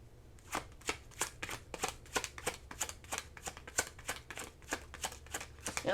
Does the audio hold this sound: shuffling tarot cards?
yes